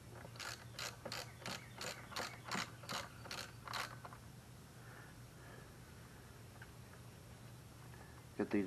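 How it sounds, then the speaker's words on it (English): A ratchet wrench clicks in quick bursts as bolts come off a Snapper SP-110 22-inch rear-wheel-drive mower, around ten sharp rhythmic ratcheting strokes for about four seconds, then quiet with only faint background. "Get these bolts off of here real quick."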